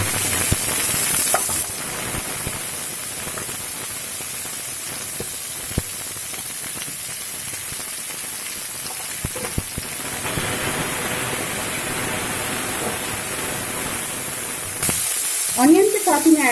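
Onion hits a hot pan and fries with a steady, bright sizzle that holds throughout, close by, with a brief stir or clatter near the end.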